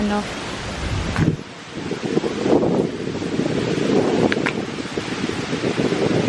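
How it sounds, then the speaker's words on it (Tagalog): Heavy wind buffeting the microphone on a mountain at Paluan, with a constant roaring rumble throughout, briefly easing for a moment before surging back. "Malakas ang hangin. Pagpasensyahan nyo na kung mag-uugong-ugong yung ating"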